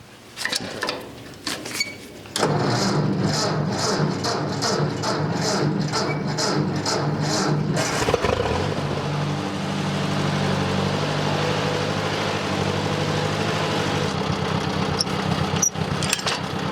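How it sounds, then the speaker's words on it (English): A 1953 Ford Jubilee tractor engine starts up and runs steadily at a near, loud idle with a low harmonic drone, following a short stretch of clattering noise at the start. "hook up Lucy, our 1953 Ford Jubilee, my most favoriteest tractor"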